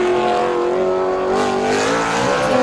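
Scalextric slot cars racing around a track, four cars in the race, give a steady, loud electric motor whine that rises and shifts in pitch as they speed along, with no talk over it.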